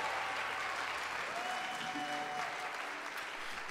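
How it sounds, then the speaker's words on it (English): Audience applause for student performers at a symphonic band concert, a steady wash of many hands clapping at moderate distance, even throughout and easing slightly near the end, with faint voices in the crowd. "Can we give them another round of applause?"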